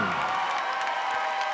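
Dense audience applause with faint cheering for the coaches and a men's club volleyball team at a school gym event, a steady wash of clapping with no talk.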